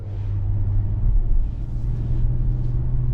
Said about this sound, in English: we are out on the road in this 2023 Nissan Rogue SV all-wheel drive Midnight Edition